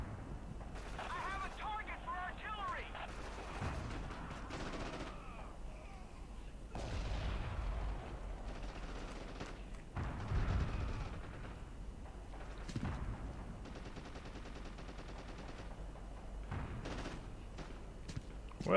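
MG 34 machine gun fire in the World War II shooter Forgotten Hope 2, multiplayer battle: repeated bursts and booming gunfire spread across the scene amid battlefield noise, with voices talking over parts of it.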